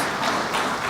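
Audience applause at the N.I.E.S 2023 official opening ceremony, a steady dense wash of clapping hands filling the whole moment at even loudness.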